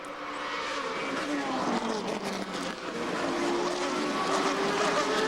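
2006 GP2 Series race cars driving at the San Marino circuit, their engines a continuous loud roar with shifting pitch as they pass near a resurfaced chicane.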